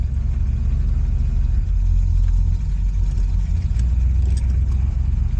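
A 1969 Ford Fairlane engine, freshly started, idles with a steady low rumble close by. It holds an even, continuous tone for the whole stretch, with no talking.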